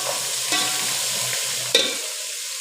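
Onions, garlic and biryani spices sizzle while browning in a hot pan, with two scraping stirs of a spoon, steady frying crackle between them, and no voices.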